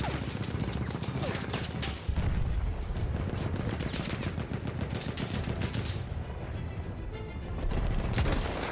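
Rifle and machine-gun fire in the Battlefield 1 campaign, a constant rattle of rapid shots with heavier cracks and occasional booms, loud and continuous throughout.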